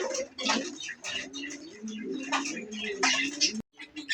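A pair of sky-blue Rajgolla pigeons, a breeding male and female, coo in soft repeated low phrases close by, with faint background ticking and rustle.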